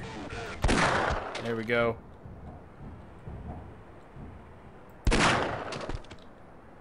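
Two loud, booming grenade blasts in Half-Life, each a sharp burst with a rumbling tail. The first is followed by a brief rattling crackle, a quieter stretch separates them, and the second blast comes about four seconds after the first. A voice speaks briefly.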